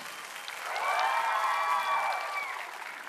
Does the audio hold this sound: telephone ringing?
no